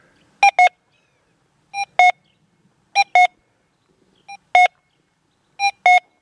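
Paired electronic beeps from a Minelab Deus 2 metal detector, two targets, repeat about five times at a steady pace, each pair a quick double tone, clear and alone.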